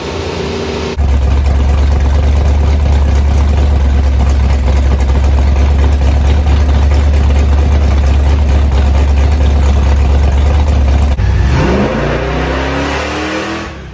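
A big block car engine on a dyno revs hard through a sustained pull, a loud steady roar lasting over ten seconds before dropping off sharply into a falling wind-down at the end.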